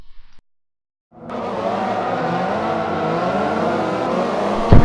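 Mini Cooper race cars rev up together in Forza Motorsport after a brief silence, a dense steady engine drone building and holding loud, with a sharp bump at the very end.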